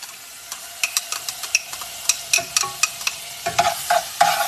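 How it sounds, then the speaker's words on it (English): Onion and a little garlic sauté in a pan, a steady sizzle punctuated by a series of crisp clicks and scrapes from stirring, close and fairly loud with no talking. "we're going to saute up our onion and a little garlic"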